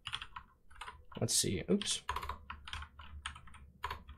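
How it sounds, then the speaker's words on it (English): Rapid typing on a computer keyboard while writing Python code, clustered clicky keystrokes in quick bursts close to the microphone, with someone speaking briefly over them. "Messing up my typing here."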